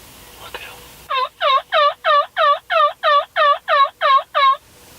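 Young wild turkey males in a Nebraska spring field: a loud, close burst of about eleven evenly spaced gobbling notes in a steady rhythm, following a brief quiet stretch.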